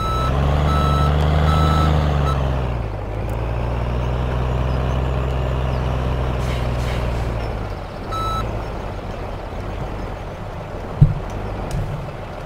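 A truck backs up in the Farming Simulator 17 video game, its steady reversing beeps sounding over a loud, constant engine drone, with a brief air-brake hiss and a sharp clunk near the end.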